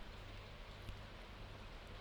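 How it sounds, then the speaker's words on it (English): Green rain falling on a farm in the video game Stardew Valley makes a soft, steady hiss of patter that stays even and quiet throughout, with no talking. "Today is the green rain day."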